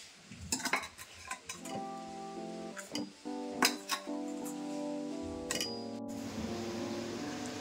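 Raw mango pieces are stirred into a fenugreek and chili pickle mix, giving close, intermittent scraping clinks of a spoon against a bowl, with soft mixing rustles between the sharper knocks.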